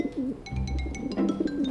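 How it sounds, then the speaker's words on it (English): A bird coos indoors in soft, repeated calls under a low background murmur, close and moderately loud. "how'd you get a bird in here?"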